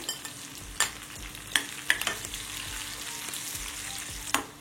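Curry leaves and dry red chillies crackling in hot oil on a low flame for avalakki chivda, a steady close sizzle broken by a few sharp pops and spoon clinks.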